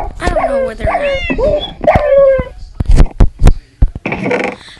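A dog in the Minecraft video game makes high, pitched whimpers and yips in a quick run, then several sharp, loud barks close by, ending in a brief burst of noise.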